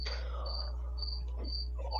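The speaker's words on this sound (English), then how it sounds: "those fucking crickets!" Crickets chirping in steady, evenly spaced bursts of high trilling, close and clear over a low constant hum, with faint voices murmuring underneath.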